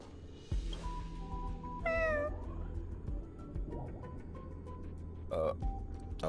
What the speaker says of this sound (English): Space cat.